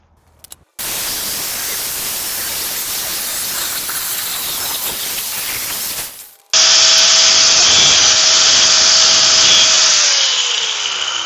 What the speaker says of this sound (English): So I'm just going to cut, and I'll just do the 3 sides.